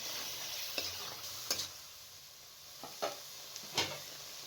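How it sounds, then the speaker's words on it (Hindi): Masala with ground tomatoes frying over medium flame, a low continuous sizzle broken by several clear scraping stirs of a spoon against the pan, close up and with no talking. "मसाला अच्छे तरीके से हम भून रहे हैं"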